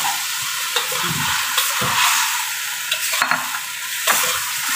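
Fried potatoes and lean meat stirred in a sizzling pan, a steady loud frying hiss broken by several scraping strokes of the spoon.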